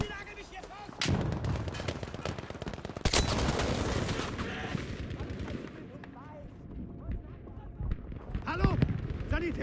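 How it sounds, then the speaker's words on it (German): Grenade blasts and gunfire in the Battlefield V video game: loud booming explosions near one and three seconds, then scattered rifle shots and battlefield rumble, with a voice speaking over the fighting. "Granate ist unterwegs."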